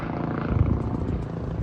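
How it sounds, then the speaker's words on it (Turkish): A helicopter passing overhead drones steadily in the distance, its low rotor throb holding level throughout with no talking. "Helikopter geçiyor bu arada."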